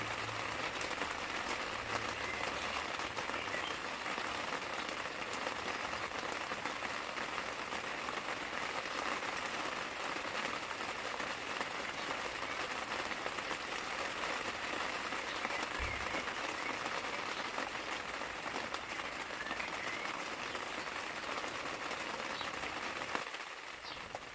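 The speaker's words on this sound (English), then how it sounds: "because it's raining" Steady rain falling outdoors in a vegetable garden during carrot, potato and tomato planting, a continuous soft broadband hiss throughout with no talk.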